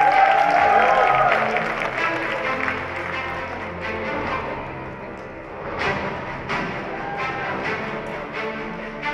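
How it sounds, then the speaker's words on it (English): Audience applause for the kids named winners at a youth fashion show; moderate clapping from a crowd, strongest at the start, fading slightly and then picking up again with scattered sharp claps. "Guys, please give a big round of applause for our kids."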